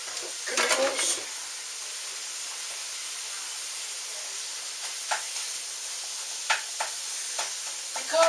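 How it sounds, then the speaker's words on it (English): Sausage chunks being broken apart in a pan for lazy lasagna, a faint steady sizzle with a few soft scrapes and taps from the utensil, quiet and close, with no talk. "So you gotta give it some time and cut apart all those chunkies"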